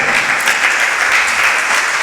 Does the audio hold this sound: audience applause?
yes